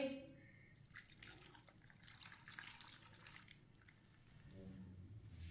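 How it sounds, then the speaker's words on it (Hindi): Tangy sour water poured into a chana chaat mixture, with faint trickling and dripping liquid sounds across a few seconds, quiet and close, plus light clinks and some soft background noise. "अब इसमें खट्टा पानी डाल लेंगे।"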